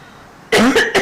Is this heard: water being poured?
no